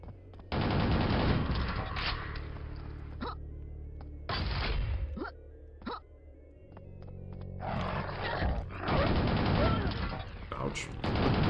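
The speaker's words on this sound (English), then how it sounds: "The problem with the rapid fire rocket launcher is that if you start shooting against the wall, you can't really stop" Rapid fire rocket launcher shooting in the Quake video game, long roaring bursts of blasts and explosions separated by brief lulls, loud and sustained with faint talk underneath.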